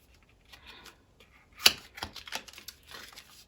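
Tarot cards pulled from their box during a card reading: soft rustles and light taps, with one sharper click midway followed by a short run of papery shuffling, close and quiet.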